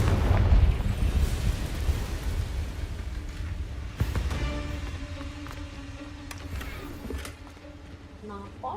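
Explosive Confringo spell going off in the video game Hogwarts Legacy, a heavy booming blast at the start with rumbling decay, then further sharp impacts amid ringing game sounds.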